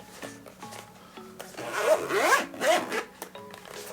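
The zipper on a DJI Mavic Air drone's carrying case is pulled shut in several quick, rasping strokes up close, with a few soft handling knocks around them and no talking.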